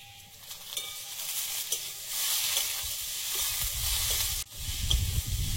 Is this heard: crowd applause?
no